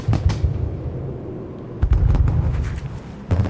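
A pistol shot fired during a duel in the video game Dishonored: sharp loud bursts with low booming tails, several separate blasts over a few seconds, heard alone without speech.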